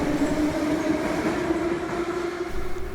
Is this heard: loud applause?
no